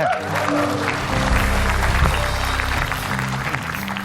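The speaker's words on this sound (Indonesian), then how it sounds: "tepuk tangan buat Opi Kumis" A television talk show studio audience applauds for comedian Opie Kumis, a burst of clapping over a low rumble with some background music or voices mixed in.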